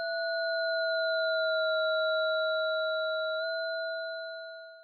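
Steady synth tone from a Zebra oscillator in single mode with detune applied, a pure sustained pitch with a few clean overtones that shifts slightly partway and fades out at the end.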